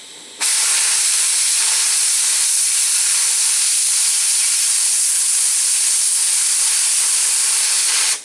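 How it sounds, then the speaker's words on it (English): An oxy-acetylene cutting torch from a portable VEVOR kit hisses in a loud, steady, unbroken rush while preheating thick steel nearly half an inch thick, close and continuous with no voices. "That is the basics for cutting with a cutting torch."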